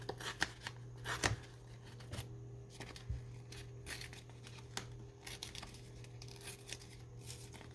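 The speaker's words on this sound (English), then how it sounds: "I'm gonna go ahead and start tearing these down" Glued-down paper being torn for ephemera, soft scattered ripping and crinkling sounds, faint and close, with no talking.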